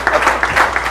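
Applause from a studio audience closing a French-language religious broadcast, a brief dense wash of clapping, loud and steady with no talk over it.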